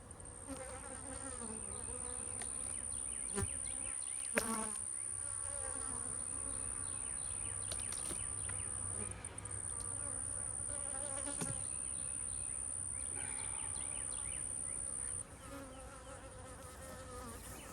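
Bees buzzing around an apiary hive during a hive inspection, a dense continuous insect drone close by with a few sharp knocks and brief handling noises scattered through, no talk.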